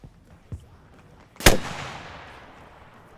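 Rocket launcher in Arma Reforger firing and exploding: a small pop, then a single loud, sharp blast that trails off into a long rumbling decay.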